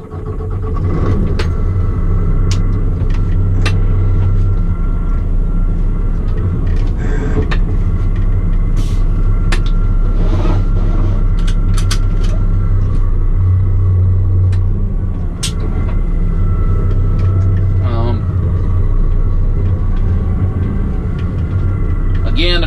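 A Mack Granite truck with a nine-speed transmission drives down the road, its engine a steady, loud, deep rumble heard from inside the cab for the whole stretch, with a few light rattles and knocks on top.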